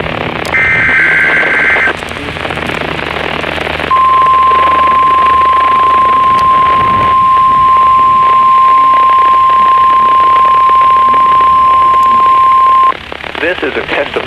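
A NOAA weather radio emergency alert sends out a loud, continuous single-pitch tone that holds for about nine seconds, preceded by brief data bursts and a voice from the broadcast.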